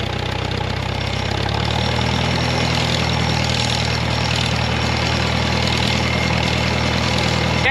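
Steady, close idle of a 1945 WW2 GMC 6X6 truck engine that has just started, the rough mid-to-low throb settling into an even knocking rhythm with no voices over it.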